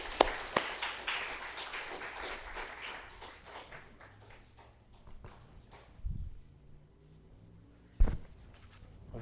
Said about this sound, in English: y'all give him a warm round of applause